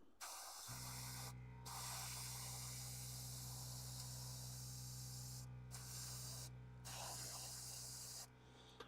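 An aerosol can sprays paint in very fine coats in a warm workshop, producing a close, steady hiss broken by several short pauses between passes, over a constant low mechanical hum.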